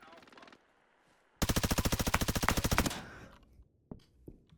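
Automatic gunfire in the Roblox game Deadline: a short burst, a pause, then a long loud rapid stream of shots, followed by a few scattered single shots near the end.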